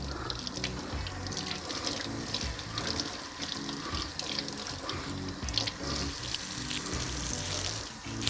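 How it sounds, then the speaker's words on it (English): Lemons and limes are washed under a running kitchen tap, water streaming and splashing steadily into the sink, loud and close throughout with no talking. "Wash the lemons and the limes."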